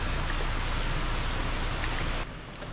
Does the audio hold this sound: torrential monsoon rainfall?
yes